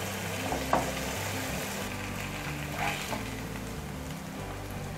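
Garlic and onion sizzling and frying in a pan as part of a fish grill recipe, a steady close crackle throughout with a couple of brief stirring scrapes, no talk.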